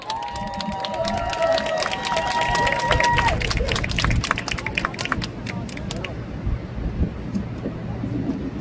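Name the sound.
applause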